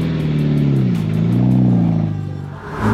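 A 2006 Mitsubishi Evo IX GSR engine revs loudly up close, its deep harmonic drone climbing and dipping through a single strong rise before settling back toward idle.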